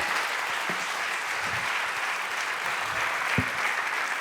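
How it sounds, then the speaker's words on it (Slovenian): Audience applause rings through a hall at a closing ceremony, a steady wash of many hands clapping at full volume for the whole stretch, with no talk. "Tudi aplavz, kot bo zdajle zazvenel v tejle dvorani."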